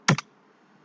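A computer keyboard is typed on while entering an nslookup command during DNS server setup on Debian Linux, two quick close key clicks and then near silence.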